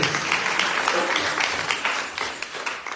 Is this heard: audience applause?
yes